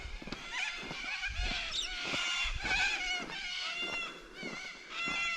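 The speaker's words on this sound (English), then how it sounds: "I think the local cockies are too impressed with me turning up." Cockatoos calling near a creek in the Flinders Ranges, with harsh, screeching cries repeating throughout, several birds overlapping at moderate distance.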